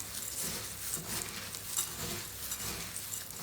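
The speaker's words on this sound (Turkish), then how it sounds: "Şöyle bir elimle karıştıracağım." A gloved hand mixes granola ingredients with sesame seeds, making a faint, steady rustling patter of dry pieces shifting and tumbling against each other.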